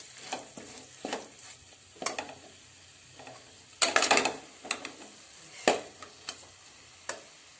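Spoon stirring chili powder into an egg curry masala in a pan, a series of soft scraping strokes with a faint sizzle underneath, some louder clustered scrapes midway, close and unaccompanied by talk.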